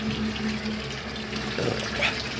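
Water draining out of a concrete tilapia fingerling pond through a spillway, a steady close rushing and splashing flow that continues without a break.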